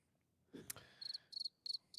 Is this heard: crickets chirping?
yes